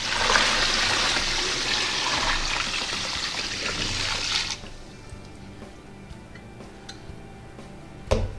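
A gallon of brine concentrate pours over turkeys in a brining container, a loud continuous splashing gush that stops abruptly about halfway through, followed by quiet drips and a few light knocks.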